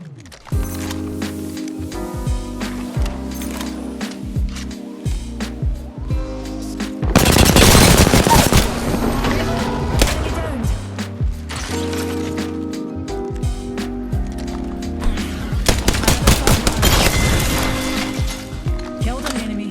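Video game gunfire, with repeated bursts of automatic shots and heavy volleys crackling throughout, loud and dense in places, mixed with game sounds and occasional voices.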